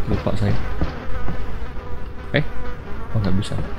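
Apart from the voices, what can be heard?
buzzing flies in the video game Resident Evil 4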